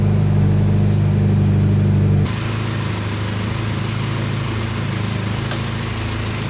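A Mini car engine on an ADE carburettor needle running at a steady loud idle, then dropping into a rougher, buzzier note as it keeps running, close and continuous without speech.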